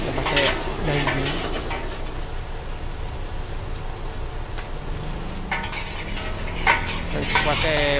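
Metal utensils scrape and clatter against a large wok while stir-frying red fried rice with meat, over a steady sizzle of frying, with clanks bunched at the start and end.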